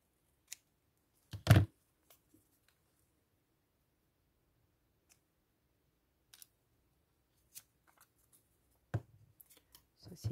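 Scissors snip through paper while a junk journal page is being trimmed straight, one sharp close cut followed by a few faint clicks and rustles, with a louder snip near the end.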